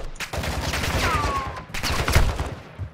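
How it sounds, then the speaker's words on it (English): Sniper fire in an online shooter game: a few sharp, distant-sounding cracks ring out over a busy background rumble, with a short whistling streak between shots. "Oh, you're getting sniped at already."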